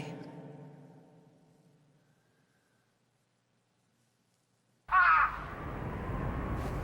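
A crow caws loudly once in a scene from the anime Cowboy Bebop, following a fading low tone and a few seconds of near silence, then gives way to steady noise.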